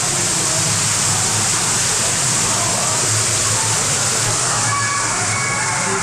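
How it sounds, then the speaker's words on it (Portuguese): Hot spring water wells up inside the steamy, sauna-like Tolantongo grottoes in Mexico, a loud, steady watery rush filling the cave without pause, with a faint voice mixed in. "Olha, a água brota."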